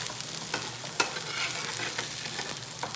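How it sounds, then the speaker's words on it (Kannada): Taro leaf patrode frying in a pan, with a steady soft sizzle and a few light scrapes as it is stirred; quiet and close, with no talking. "2 ನಿಮಿಷ ಇಂಚ ಫ್ರೈ ಮಾಡ್ತಾನೆ ನಾನು"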